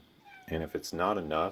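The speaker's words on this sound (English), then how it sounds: "I don't know why my cat's meowing at me" A pet cat meows twice, close and fairly loud, with a short voice speaking just before the meows.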